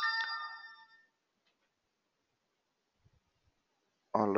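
A phone ringtone playing a bright melodic tone that fades out after a second, then silence before a burst of speech cuts in at the end.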